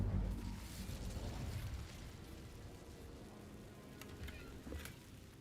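A Hogwarts Legacy Incendio fire spell gives a soft whooshing burst that settles into quiet crackling and hissing, faint, with a couple of small pops near the end.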